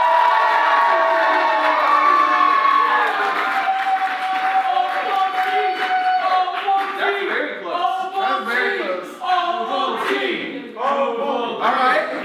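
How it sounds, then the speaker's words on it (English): A crowd at a live comedy roast competition cheers, whoops and claps for a contestant, a sustained roar of voices and applause that stays loud throughout with shouted cries rising above it. "Big round of applause if you think Austin Johnson won this roast!"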